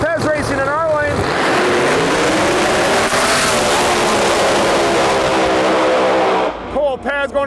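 Pro Mod drag race cars launch and scream down the track, a loud sustained engine roar with rising whine that fades sharply near the end, over an announcer's voice.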